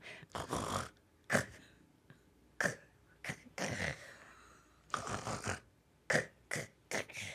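A woman comedian imitates a husband's snoring in a string of loud, rough snorts and throaty rasps, broken by short pauses, performed on stage.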